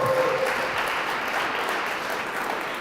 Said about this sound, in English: or a really big round of applause